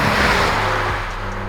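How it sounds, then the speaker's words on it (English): AWE Touring Edition catback exhaust on a car at steady cruising speed gives a low, even, subdued drone under broad road and wind noise, close and continuous. "This exhaust is really mild when you're just cruising around."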